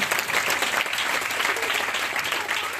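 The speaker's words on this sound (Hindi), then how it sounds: "जोरदार ताली से" A church congregation at a Christian testimony service applauds loudly, a dense, steady burst of clapping that fills the whole stretch without a break.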